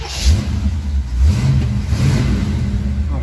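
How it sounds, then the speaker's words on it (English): The 350 engine of a 1983 Jeep Scrambler revs up and down, a loud, close, throaty rumble rising in bursts over a steady idle, with no talking. "Oh wow, listen to that motor."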